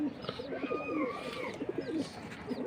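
A silver racing pigeon coos softly while being coloured by hand, several low rolling coos in a row, close and fairly quiet over faint background noise.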